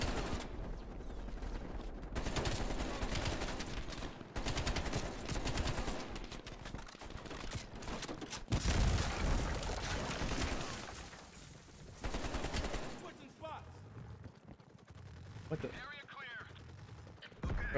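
AK rifle fire in the video game Call of Duty Black Ops Cold War rattles out in dense rapid bursts, loud and close, separated by short gaps, with some talking over parts of it.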